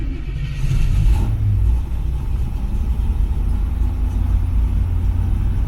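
Car engine idling after start-up on an ACES EFI Killshot fuel injection system, a loud, steady low rumble with a brief swell in revs near the start, no voices.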